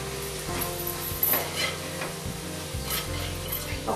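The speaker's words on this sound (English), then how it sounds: "And give it a real good stir." A chili powder, salt and spice mixture is stirred in a pan, a soft sizzle under repeated scraping strokes of the spoon at a steady rhythm, close and moderately loud.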